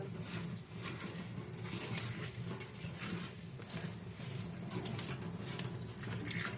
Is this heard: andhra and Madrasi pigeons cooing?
no